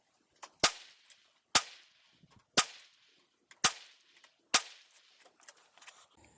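A Ruger 10/22 Charger pistol fires .22LR rounds in five sharp, close shots spaced about a second apart, each trailing a short echo, with faint handling noises between.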